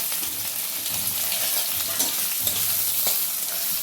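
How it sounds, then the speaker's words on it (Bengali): Chopped onions and cumin fry in a pan, giving off a dense, bright, continuous sizzle up close with occasional soft stirring bumps and scrapes beneath it. "পেঁয়াজটা আমি লাল লাল করে ভেজে নেব, যতক্ষণ না হচ্ছে আমি ভাজবো"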